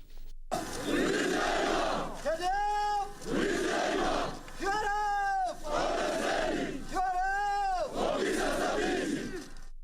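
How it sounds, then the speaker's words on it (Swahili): At a farewell ceremony for Kenyan soldiers bound for the DR Congo, a crowd repeatedly roars and chants in loud rhythmic bursts, alternating with rising and falling ululation-like voiced calls, steady and close across the whole span. "Nderemo zilishuhudiwa wakati wa hafla ya kuaga wanajeshi wa Kenya wanaoelekea katika Jamhuri ya Kidemokrasia ya Kongo"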